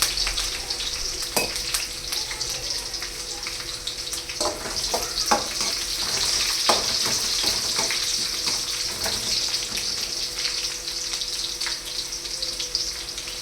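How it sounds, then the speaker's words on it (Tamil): Onions fry in a pan for cauliflower gravy with a steady, loud crackling sizzle, broken by occasional sharp clinks and scrapes of stirring. "வெங்காயம் போட்டு ஆனியன் போட்டுக்கலாம்"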